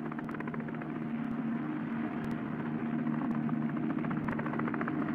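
An army helicopter carrying a divisional commander flying into a combat perimeter: steady, continuous rotor and engine drone with rhythmic blade chop, constant and fairly loud throughout with no voices.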